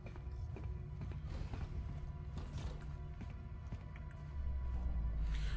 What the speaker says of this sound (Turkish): Bu kapıyı açalım.